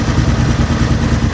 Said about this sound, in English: this is with the bike running at temperature